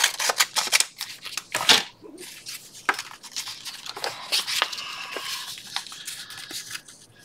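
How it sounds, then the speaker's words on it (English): Scissors cutting paper for a junk journal craft project: a quick series of close, crisp snips and rustles, with a louder burst of cuts in the first couple of seconds and lighter snipping and paper handling afterward, no talk. "so I'll cut a little bit of that off"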